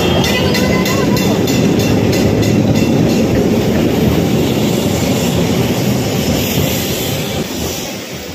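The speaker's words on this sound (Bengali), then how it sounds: "এই সেই ট্রাম।" A Kolkata tram rumbling past close by on its street rails, a loud sustained rolling roar with rhythmic clacks early on, easing slightly as it moves away.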